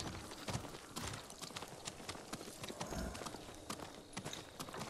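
Horse hooves clip-clopping in Ghost of Tsushima, a steady run of sharp hoof knocks at close range over a busy game background, with no talk.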